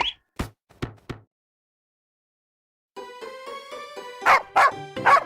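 Cartoon dog in a children's story about a greedy dog: several sharp, brief yelps at the start, a pause of silence, then a run of louder, tonal barking bursts with musical backing.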